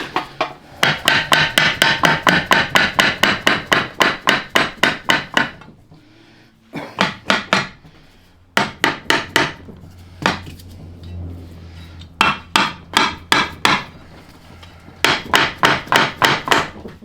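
Alignment dowels being hammered into a Cub Cadet 582 pulling tractor engine block: bursts of sharp, rapid metallic hammer strikes in close, loud runs separated by brief pauses.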